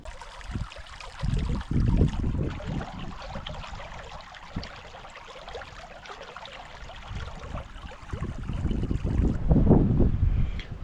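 Wind gusting into the microphone outdoors at an overland picnic beside a Can-Am Defender, with uneven low rumbling buffets that surge and ease, loudest toward the end.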